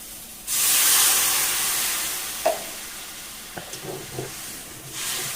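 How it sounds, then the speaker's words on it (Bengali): Water poured into a hot pan of vegetarian curry made with taro root and potato erupts in a loud burst of sizzling hiss that slowly settles, followed by a few soft clinks and stirring noises; no one speaks. "এবার পরিমাণ মতো জল দেবো।"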